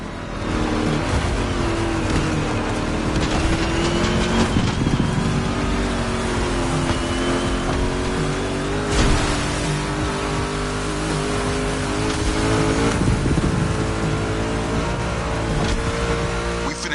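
A video game car engine revs and roars continuously for the whole stretch, rising and falling with bursts of acceleration and possible tire noise in a dense, loud mix.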